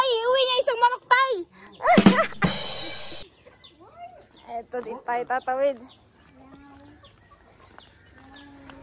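A chicken clucks and squawks nearby in short, agitated bursts, with people talking close by between the calls.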